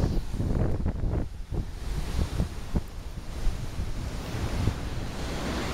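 Surf rolls in at a sunny Hawaii beach below cliffs, with several wave crashes early on settling into a steady wash, all partly buffeted by wind rumbling against the microphone.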